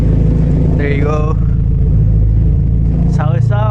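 A Hyundai Genesis Coupe with raw exhaust idles in a steady, deep, close rumble, while someone talks over it briefly.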